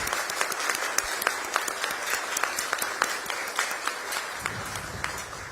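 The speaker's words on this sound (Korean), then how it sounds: "여러분, 뜨거운 박수로 우리 이재명 대통령님 네 분을 환영해 주시기 바랍니다" Audience of overseas Korean residents applauds to welcome the president during a state visit to India, a dense, loud, sustained round of clapping with sharp individual claps standing out throughout.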